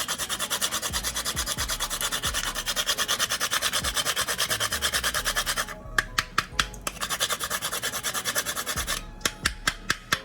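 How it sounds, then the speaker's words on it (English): Nutmeg rasped against a grater over hominy corn porridge mixture, a steady run of quick scraping strokes close by, then two short bursts of separate sharp scratches with brief gaps between them. "grating some nutmeg into this mixture"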